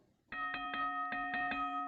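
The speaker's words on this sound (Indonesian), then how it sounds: "bel berbunyi." A doorbell rings during a stage play, a run of five or six bright, evenly spaced electronic chimes following a brief quiet moment, heard clearly and alone without any voices.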